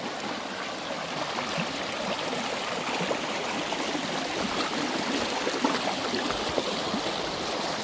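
Creek water runs steadily through a small channel beside a trail shelter at Matts Creek, a close, continuous rushing and trickling wash that holds an even level with no voices.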